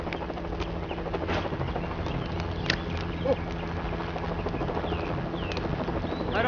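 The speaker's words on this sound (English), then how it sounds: "It says engine on the side of that chopper." Helicopter flying in a Lego Jurassic World cutscene: a steady rotor-and-engine drone fills the background throughout, with scattered effects and faint bird-like calls laid over it.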